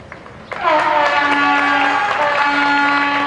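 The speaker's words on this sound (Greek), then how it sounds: "Χειροκρότημα από την εξέδρα" Applause rises from the stands at a football match, a sustained, loud wash of crowd clapping that swells suddenly and holds steady, with a tonal ringing running through it.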